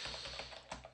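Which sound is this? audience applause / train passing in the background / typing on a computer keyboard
typing on a computer keyboard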